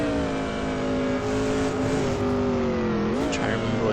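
Race car engines from a 2000 GARRC racing game recreation at Homestead, droning steadily and loud throughout, with pitch rising and dipping as the car runs laps, joined by a brief higher whine near the end.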